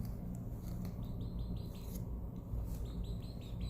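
Young chicks chatter and peep in quick, repeated high chirps, fairly faint, over a low steady background hum.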